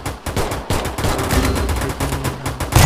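Rapid gunfire from the game Garena Free Fire MAX, a loud, close burst of sharp repeated shots in quick succession lasting nearly three seconds, with no talk over it.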